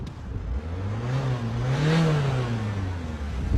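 An engine revs up to a peak and then eases back down, loud and close, with a steady mechanical drone.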